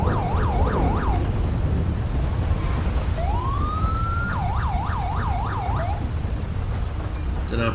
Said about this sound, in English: Don't know if we can hear the sirens over the thunder.